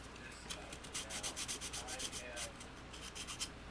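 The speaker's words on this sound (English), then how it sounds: "We should probably get some sandpaper and clean this edge." Sandpaper rubs briskly back and forth over the edge of a plastic part from an MPC Star Wars AT-ST model kit, a quick rhythmic rasping close up and fairly quiet, with no talk.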